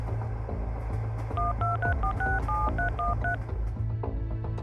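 A mobile phone being dialed: a quick run of about a dozen electronic keypad tones beeping one after another in an irregular rhythm, clear over a low background hum and room noise, with no talking.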